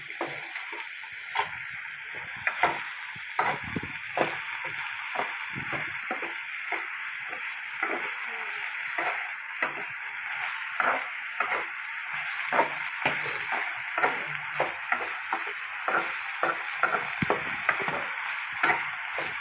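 Small pieces of raw banana fry in hot oil in a pan, giving a continuous crackling sizzle with frequent little pops and stirring scrapes, close and steady throughout.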